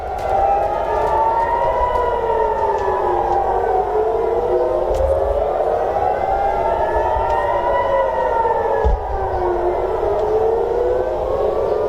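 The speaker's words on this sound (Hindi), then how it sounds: "इजराइल के प्रमुख शहरों में सायरन की आवाज सुनाई दी है" Air raid sirens wail across Israeli cities during an Iranian missile attack, a loud rising and falling civil defense tone cycling slowly and continuously, with no voices over it.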